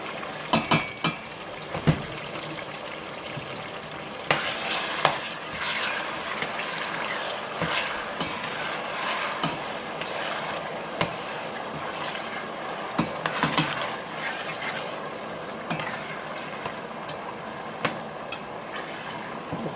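Onions fry in a pot for Nigerian jollof rice while being stirred. A steady hiss and sizzle runs throughout, broken by scattered scrapes and knocks from the stirring.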